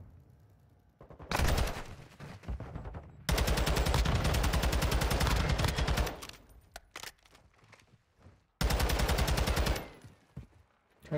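Bursts of rapid automatic gunfire from a competitive shooter video game match, several loud sustained volleys separated by quieter gaps, sounding close and dominant.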